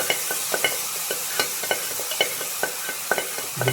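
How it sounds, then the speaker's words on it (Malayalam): Pressure-cooked beef with its masala and a little cooking water is stirred in a hot pan, with sizzling under quick, regular scraping strokes about two or three per second. "നമ്മൾ നേരത്തെ പ്രഷർ കുക്ക് ചെയ്ത് വെച്ചിട്ടുള്ള ബീഫ് ഇട്ട് കൊടുക്കും"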